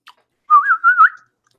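A person tries to whistle, producing a single wavering, breathy whistle about half a second long. The tone is close and fairly loud, after a tiny click, with no talk over it.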